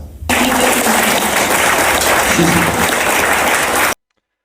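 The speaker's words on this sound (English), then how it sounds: "she got quite a good round of applause there" An audience gives a speaker a hearty round of applause, a loud, continuous burst of clapping that starts abruptly, with faint voices mixed in, then cuts off sharply.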